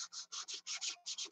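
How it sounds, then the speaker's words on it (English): Primer on a body panel is hand-sanded in quick back-and-forth strokes to reveal low spots, close, rhythmic raspy rubs, about nine in a row with a brief pause near the end. "you want to keep sanding until you get all the low spots out"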